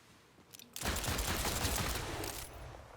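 A Jakobs pistol in sniper mode fires in Borderlands 4, a single loud burst followed by a dense rolling rattle of shots lasting a couple of seconds before fading.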